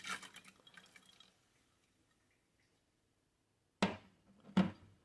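Frozen elderberries drop into a pan of water in a home kitchen: two sharp, close splashy plops near the end after a brief rattle of berries and a quiet pause.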